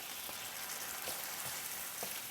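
Black beans and their liquid hit a hot pan with a steady, soft sizzle and a few faint stirring knocks, low and continuous with no voices.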